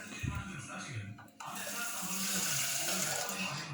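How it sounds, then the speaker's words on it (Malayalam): Water pours steadily into a pressure cooker holding beans, a close continuous rush that starts after a brief gap and keeps running without talk. "ഇതിൻ്റെ അകത്തേക്ക് ഇനി ഇച്ചിരി വെള്ളം ഒഴിക്കാം."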